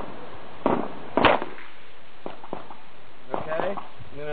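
A pistol firing a HydroShock round at a Level 3 bulletproof vest, with two sharp cracks close together followed by a few smaller knocks and handling noises.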